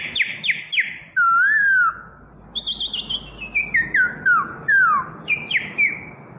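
A young man whistles an imitation of a parrot call, giving a few sharp rising-and-falling squawks and chirps in a quick burst, close and loud, with no talking.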